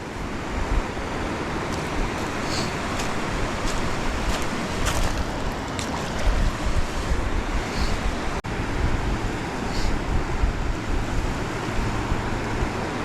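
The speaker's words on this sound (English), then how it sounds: "Water's rushing a little harder." River water rushes past in a continuous, noisy roar that sounds close, with light wind buffeting mixed in and no one speaking.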